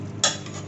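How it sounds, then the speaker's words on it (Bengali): A spoon stirs a pot of mutton head cooking with chana dal and tomatoes, giving a single short scrape against the steady sizzle of frying. "নাড়িয়ে দেবো একটু।"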